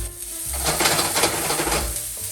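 Ginger and garlic sizzle in hot oil for a chicken fry, a steady close crackling hiss with soft clinks of stirring, no voices.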